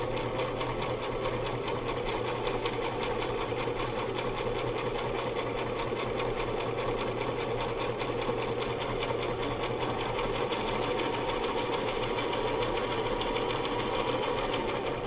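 A sewing machine stitches a fabric square, its needle running in a steady, fast mechanical chatter close by. The sound holds an even loudness for the whole stretch and is heard alone.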